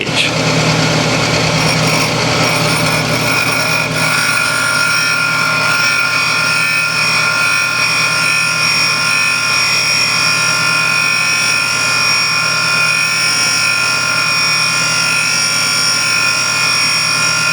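A valve grinding machine refaces an intake or exhaust valve from a GM 5.3 engine during an overhaul, giving a loud, steady motor whine with a grinding rasp at the start that settles into a constant hum.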